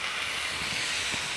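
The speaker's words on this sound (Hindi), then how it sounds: "अब इसको थोड़ी देर तक और भून लेते हैं चने को" Green chickpeas roast with salt in a pan, giving a steady, close sizzling hiss that runs unbroken throughout, with no talking.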